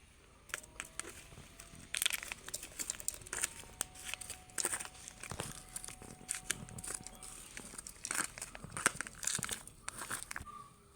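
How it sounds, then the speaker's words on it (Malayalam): Soil is dropped into a small cut bamboo pot, close and crisp, with irregular crunching, crumbly rustles and light scrapes in quick bursts and no voices. "കുറച്ച് മണ്ണെടുത്ത് ഇങ്ങനെ വെച്ചിട്ടുണ്ടായിരുന്നു നമുക്ക് ഇതിലേക്കൊന്ന് ഇട്ട് കൊടുക്കാം"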